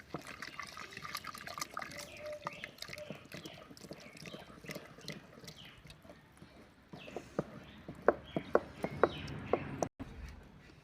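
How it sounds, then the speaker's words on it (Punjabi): Hot water is poured into a pot of cooking saag, a soft, wet trickle and splash that is fairly quiet. A few brief knocks and clinks rise toward the end. "ਜੇ ਆਪਾਂ ਜੀ ਗਰਮ ਪਾਣੀ ਪਾ ਦਾਂਗੇ ਸਾਗ ਦੇ ਵਿੱਚ"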